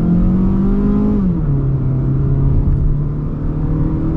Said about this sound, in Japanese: さあ、スポーツモードにしました。 いきますよ。